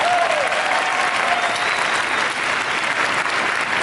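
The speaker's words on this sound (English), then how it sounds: "Another round of applause, please." Dense sustained applause from an audience at a dental association VIP event, steady and loud throughout with no breaks.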